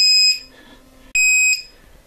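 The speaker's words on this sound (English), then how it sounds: "I'm going to disconnect that because we can't have that beeping all the way through" A model saver lost-model finder alarm on an RC setup sounds two loud, piercing electronic beeps, each about a third of a second long, close and alone with a short gap between them.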